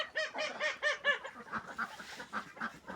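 Several birds, geese or other poultry, give repeated nasal honking calls inside a small crowded farm shed with muscovy ducks nearby, loud and close in quick overlapping bursts, then softer scattered calls.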